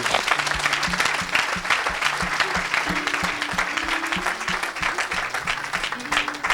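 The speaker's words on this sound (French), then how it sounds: "Quelqu'un acclame le Seigneur." A church congregation at a Sunday worship service breaks into loud, sustained applause to acclaim the Lord, dense rapid clapping filling the room with voices mixed in.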